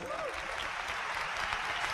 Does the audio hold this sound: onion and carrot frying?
no